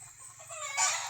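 Chickens in the provinces settle to roost at dusk in a mango tree, giving a faint drawn-out cluck or call that rises near the end, over a low background rumble.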